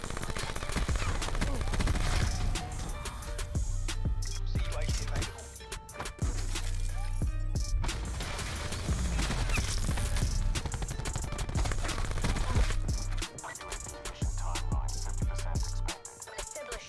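Rapid bursts of VMP submachine gun fire in Black Ops 4 gameplay, loud and close, rattling in several long strings with short pauses between them and scattered impacts and game effects layered throughout.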